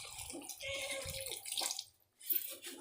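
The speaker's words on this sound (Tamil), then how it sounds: "இப்போ நம்ம தேவையான அளவு தண்ணி ஊற்றிக்கலாம்." About two tumblers of water are poured into a pan of crab curry, making a close, splashy gush for under two seconds, then a short pause and a brief second splash.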